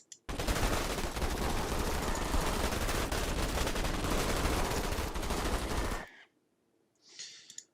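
Troopers' sustained automatic gunfire in the real-time strategy game Starship Troopers: Terran Command, a loud unbroken rattle of rapid shots lasting about six seconds before cutting off, followed by a brief faint burst.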